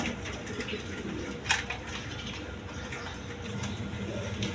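A pair of Rajgolla pigeons at a pigeon dealer's coo in soft, low, rolling murmurs, close by, with a faint tap standing out briefly midway.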